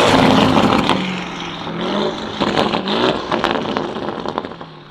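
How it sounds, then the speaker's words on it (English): A Novitec-tuned Lamborghini Urus with a 4-liter twin-turbo engine roars loudly, revving and surging close by with throaty rises and falls and a sharper burst of revs near the end. "Under there, that 4-liter twin turbocharged, beautiful engine."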